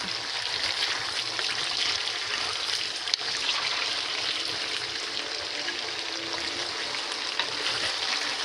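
Potatoes and onions fry in a pan with a constant close sizzling hiss and faint crackles, one brief clack near the middle, and no talking.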